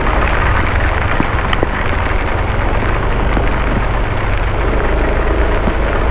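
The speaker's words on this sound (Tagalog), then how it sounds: "Ay, lakas ng ulan." Heavy rain pours in a dense, constant roar during a car ride, drumming hard on a surface nearby with a low rumble underneath.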